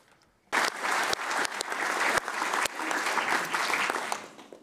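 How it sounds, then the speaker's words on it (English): Conference audience applauding in a large hall, a sudden burst of clapping that starts abruptly and holds steady for several seconds before fading out at the end. "So a round of applause to you all for that."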